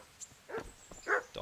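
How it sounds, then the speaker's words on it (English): Dogs bark and yip in the medieval village of the video game Kingdom Come Deliverance, a few short, moderately close barks spaced apart over quiet ambience. "Dogs."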